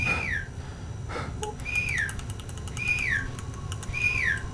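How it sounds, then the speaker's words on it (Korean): A person whistles inside a horror video game set in the Backrooms, repeating a rising-then-falling whistle four times at steady intervals over low ambient rumble. "내가 지금 휘파람 불게"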